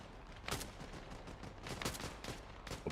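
Sniper rifle shots in the Arma Reforger video game: several sharp, moderately loud cracks in uneven succession over a steady background of ambient noise.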